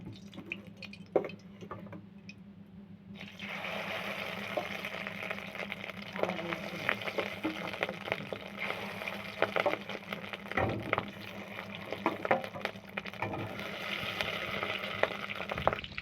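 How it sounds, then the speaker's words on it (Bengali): Low crackling sizzle of fish roe frying in hot oil in a wok, with scattered pops and spatters, fairly quiet and continuous throughout. "তেলটা গরম হয়ে গেছে, ডিমটা ভেজে নেব।"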